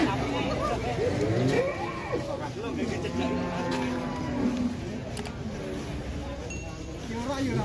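Fat Simmental beef cattle low repeatedly at a livestock market, several moos rising and falling amid a busy background murmur of people and activity.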